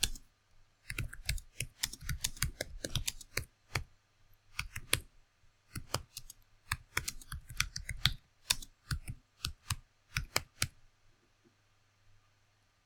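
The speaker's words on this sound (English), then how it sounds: "So I'm going to type that in here." Typing on a computer keyboard in quick clustered bursts of crisp key clicks with short pauses between runs, close and clear with no talking.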